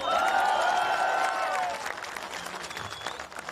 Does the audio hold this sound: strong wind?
no